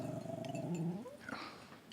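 A dog growls low and rumbling for about a second, then the growl fades into quieter background noise with no one speaking.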